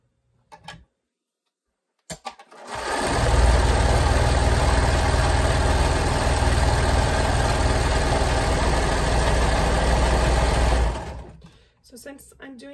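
A serger stitches a 1/4 inch seam along the side of a strap on a lounge gown, its steady rapid motor hum running loud and continuous for about eight seconds after a couple of brief handling clicks, then stopping.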